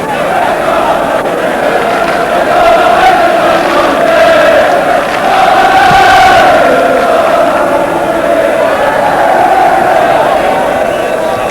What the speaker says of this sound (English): Further applause from the thousands who've made their way over from Grimsby